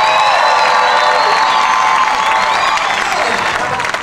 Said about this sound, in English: how about a big round of applause for my mates back here